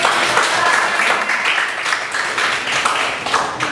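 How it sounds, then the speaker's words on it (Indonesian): Applause from a class during an Islamic religious education lesson, a steady, dense patter of many hands clapping together, close and even throughout. "Tepuk tangan."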